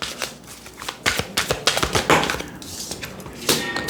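Tarot cards being shuffled by hand, a quick series of crisp riffling taps and flicks in irregular bursts, close and fairly soft with no voices.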